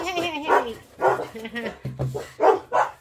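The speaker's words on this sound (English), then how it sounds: "When my dogs hear another dog bark in the neighborhood, that is their call, the battle cry." Dogs bark and yip repeatedly at close range in a home, in several loud bursts mixed with whimpering, with a person's voice heard among them.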